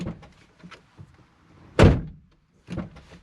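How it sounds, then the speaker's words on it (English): A car's driver's side door gives a solid, close thunk as it is shut, followed about a second later by a second softer clunk. Faint handling noises come before it, and the setting is otherwise quiet. "Open and close driver's side door again twice and leave open."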